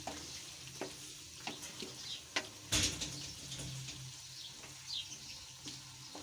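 Thick chunks of potato and mutton frying in oil in a pot for aloo gosht hiss softly and steadily, punctuated by scattered clinks and scrapes of stirring, one louder clatter near the middle.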